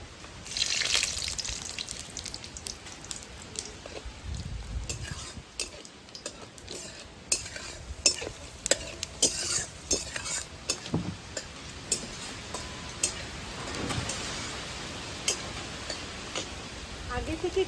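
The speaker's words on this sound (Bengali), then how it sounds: "কড়াই তেল গরম হয়ে গেছে ফোড়ন দিয়ে দেবো" Whole spices sizzle in hot oil in a wok as a chicken curry gets started, with a loud crackling hiss and scattered sharp pops and spatters that flare up at intervals.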